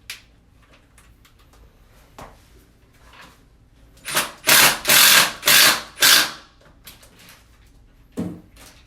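An impact drill fires in four or five loud, rhythmic bursts into a concrete basement floor, preceded and followed by a few clunks and knocks.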